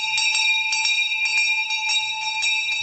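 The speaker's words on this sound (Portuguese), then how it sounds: "Temos um sino que anuncia o fim das aulas." A school bell rings out to mark the end of classes, a bright electric trill with rapid repeated strikes and sustained metallic overtones, loud and continuous without any talk.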